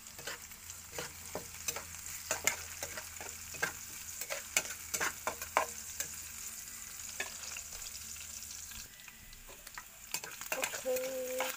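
Sardines with green pepper and spring onion sizzle steadily in a pan, with repeated sharp scrapes and clicks of stirring close by over a constant frying hiss.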